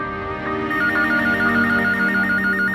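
A telephone rings steadily with a repeating electronic tone pattern, fairly loud and close, with a continuous background hum underneath and no talking.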